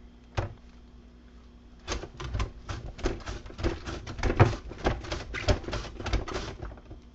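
Cabbage halves sliced on a mandolin for sauerkraut: a run of crisp, rapid scraping strokes close by, one early stroke then a steady rhythmic series of slices with short gaps, no talk.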